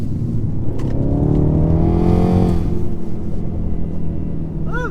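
A 2020 BMW X2 M35i pulls hard in sixth gear, its engine a loud, close, steady rising drone with rumble from inside the cabin.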